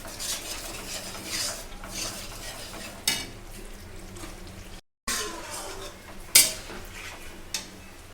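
Pre-boiled meat goes into a pot with softened tomatoes and gets stirred, bringing close metal clinks and scraping of a spoon against the pan over a soft sizzle, with a sharp clatter near the end.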